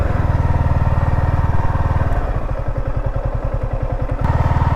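A Yamaha R15 M motorcycle idles close by, its engine thumping in a fast, even pulse, with brief slight revs and a rattly mechanical edge throughout.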